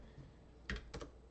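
Keys tapped on a computer keyboard while coding CSS, two short clustered bursts of clicks close by, the first sharper and louder, with quiet gaps between.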